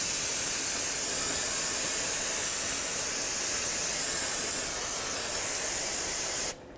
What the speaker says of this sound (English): Use brake parts cleaner, clean this all up.